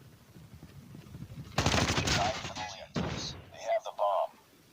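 Call of Duty: Mobile gameplay erupts in a short burst of rapid automatic gunfire, followed by a few sharper thumps and bangs. The action sits over a quiet background.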